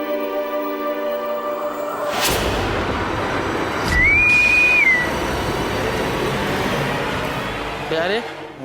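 A person whistles a single sustained, steady high note lasting about a second in the middle, set against a busier background of noise and a sharp rise in ambient sound.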